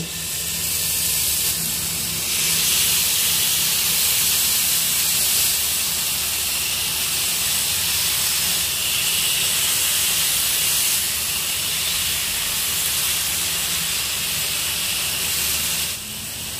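Chicken reshmi kebabs on skewers fry in a pan over a low gas flame with a steady, close hiss of sizzling oil that runs unbroken from start to finish.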